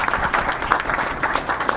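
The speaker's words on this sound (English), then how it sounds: "Well, Gabriel, we got to give you a round of applause." Short burst of audience applause at a university roundtable meeting, a steady patter of clapping from a small group with a voice speaking over it.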